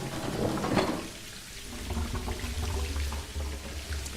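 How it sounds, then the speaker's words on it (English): Water gushing and trickling into a toilet tank in the Resident Evil 7 Beginning Hour demo, a steady close rushing flow with a low rumble underneath, heard alone. "Okay, that's going to put water into the tank."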